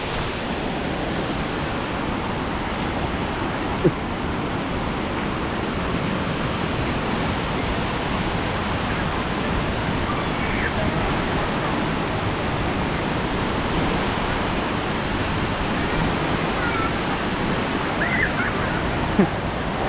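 Soi Sawan waterfall in Pha Taem National Park, northeast Thailand, heard as a loud, dense, unbroken rush of falling water that stays steady throughout with no voices.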